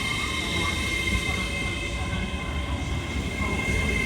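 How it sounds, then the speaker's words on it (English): LNER Azuma unit 801-221, working the York to London King's Cross service, pulls out of Doncaster station on the East Coast Main Line with a steady, loud, continuous rail rumble throughout. "Departing now is 801-221, working the 1058 LNER Azuma service from York to London King's Cross."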